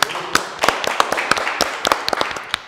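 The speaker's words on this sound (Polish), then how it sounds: "jeszcze raz ogromne brawa" Audience applause at an award ceremony for a family film contest, a scattered run of sharp individual claps rather than a dense roar, fairly close and steady with no talk over it.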